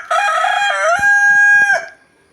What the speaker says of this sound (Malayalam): ഇത് ഞാൻ വളർത്തുന്ന കോഴികളൊന്നും അല്ല കേട്ടാ, എൻ്റെ അമ്മായിയമ്മ വളർത്തുന്ന കോഴികളാണ്